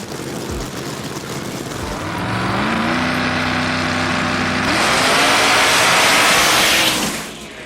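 Die-cast Hot Wheels cars, a Chevette and a Chevelle, race down a track with a whirring, engine-like drone that rises and swells, holds steady and loud, then drops off sharply at the finish.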